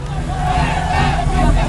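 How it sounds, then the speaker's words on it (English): A large street crowd at a protest in Iran, a loud, continuous roar of many voices chanting and shouting together, close and dense throughout. "crowds chant slogans once unthinkable inside the Islamic Republic"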